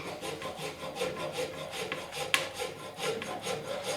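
A hand file rasps back and forth across a steering wheel from a 1956 Mercury pickup under restoration, with steady rhythmic close strokes about four per second and a single sharper scrape partway through.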